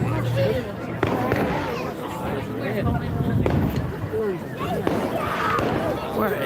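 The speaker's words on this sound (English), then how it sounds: "The fireworks are still continuing." Fireworks crack and pop repeatedly at an outdoor band parade in Magherafelt, sharp bangs standing out over a steady din of crowd chatter and nearby voices.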